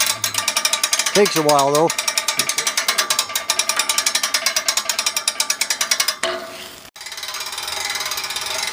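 A hand-cranked winch raising an antenna tower ratchets in a rapid, even series of clicks for about six seconds, then stops. Someone speaks briefly over the clicking near the start.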